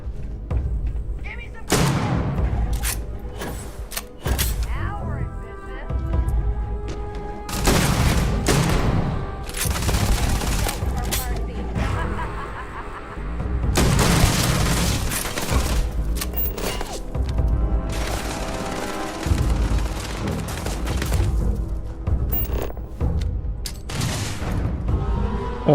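Shotgun blasts and grenade explosions from combat in the Starfield video game, a long run of loud booms and bursts of fire coming in irregular clusters, with someone talking at times over the gunfire.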